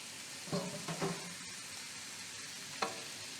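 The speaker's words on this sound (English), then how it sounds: "We're going to fry them a bit to give some color, and then we're going to finish them off in the sauce" Potatoes fry in a pan before being finished in a lemon sauce for beef. A steady, soft sizzle runs throughout, broken by a few brief stirring scrapes and clatters, with no voices.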